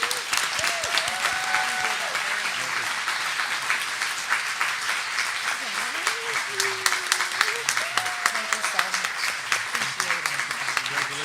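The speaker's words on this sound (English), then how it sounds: "So please give her a round of applause" An audience applauds an award recipient at a community award ceremony, steady full clapping for about eleven seconds with voices and whoops rising over it now and then.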